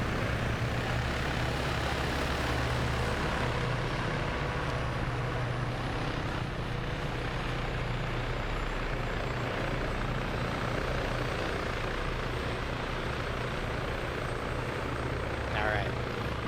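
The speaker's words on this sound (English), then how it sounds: "Otherwise, choppers are deploying." Military helicopters deploy in a multiplayer war video game set in Poland, their rotors and engines producing a loud, steady, dense roar that fills the whole stretch without pause.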